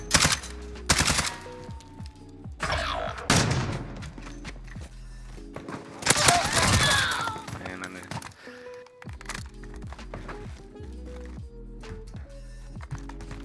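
A video game gun fires in rapid bursts, loud sharp volleys with short pauses between them, mixed with game clatter and a voice speaking over it.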